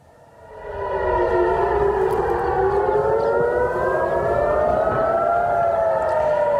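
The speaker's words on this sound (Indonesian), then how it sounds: "Sirene terdengar meraung saat Israel dan Iran saling melancarkan serangan untuk pertama kalinya sejak gencatan senjata" Civil defense air raid sirens wail in Jerusalem during an exchange of strikes between Israel and Iran, several overlapping tones rising and falling together, loud and steady after a quick swell, with no voices.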